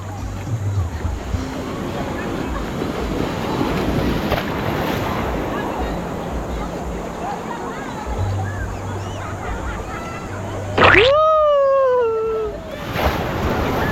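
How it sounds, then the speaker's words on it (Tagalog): Strong ocean waves surge and crash in a continuous loud roar with wind buffeting the microphone, close and rough; a voice shouts briefly near the end. "Oh, malakas na yung alon."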